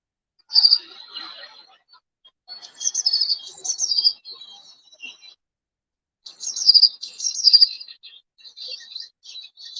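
Bright, high-pitched blue tit song in short trilling bursts, repeated a few times with pauses between, fairly close and clear against a quiet background.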